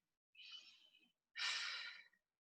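Two deep breaths during a Pilates mat session, a softer airy exhale followed by a longer, fuller one, close and clear against silence.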